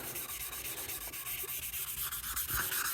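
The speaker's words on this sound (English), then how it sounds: "This is the first time I've taped myself actually sanding." Hand sanding on a bass guitar body under construction, a rhythmic series of scratchy back-and-forth rubbing strokes, close and fairly quiet, no voices.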